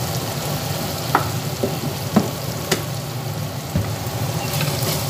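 Masala being stirred in a frying pan after a spoonful of sugar goes in for masala bread, a steady low sizzle with several soft scraping strokes of the spoon, close and alone.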